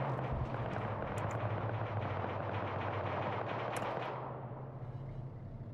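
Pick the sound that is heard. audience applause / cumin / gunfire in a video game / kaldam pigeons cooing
gunfire in a video game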